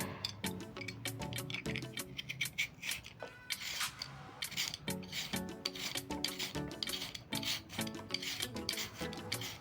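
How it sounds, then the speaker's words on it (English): Potatoes are peeled with a vegetable peeler for French fries, giving quiet, quick rasping scrapes in uneven bursts, close and faint, with no talking. "I'm going to start off by peeling my potatoes"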